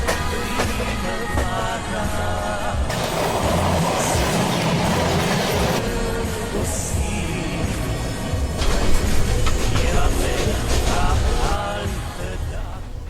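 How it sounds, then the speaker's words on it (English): A Romanian passenger train runs on the rails with a continuous loud rumble, rhythmic clickety-clack from the wheels and occasional squeals and rattles, heard from inside the carriage. "it's literally the best train I've ever been on"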